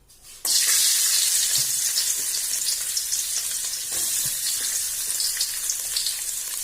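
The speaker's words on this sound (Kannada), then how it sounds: "ಬಾಣಲೆಯಲ್ಲಿ ಒಳ್ಳೆ ರೀತಿಯಲ್ಲಿ ತೆಂಗಿನ ಎಣ್ಣೆ ಒಳ್ಳೆ ರೀತಿಯಲ್ಲಿ ಬಿಸಿ ಆಗುವಾಗ ಸ್ವಲ್ಪ ನೀರುಳ್ಳಿ ಸೇರಿಸಬೇಕು" Onions hit hot coconut oil in a pan and burst into a loud, sharp sizzle that then holds steady and close. Faint stirring clicks come through the frying.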